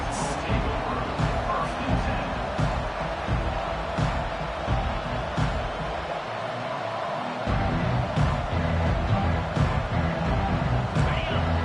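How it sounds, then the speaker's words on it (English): A packed stadium crowd roars steadily at a college football game between Tennessee and Ole Miss, a dense, continuous wash of cheering and noise that stays loud throughout. "This crowd trying to show them what it's going to be like all day in this house."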